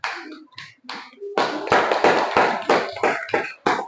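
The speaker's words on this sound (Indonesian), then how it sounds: "tepuk tangan dulu untuk Ulpa dan kelompok 3" Elementary classroom applause for a student group, starting with a few scattered claps and then rising into loud, rhythmic clapping by several children close by.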